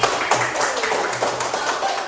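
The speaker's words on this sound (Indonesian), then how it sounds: "Tepuk tangan untuk Selsi." Brief clapping, several hands patting in an uneven rhythm for about two seconds, moderately loud and close.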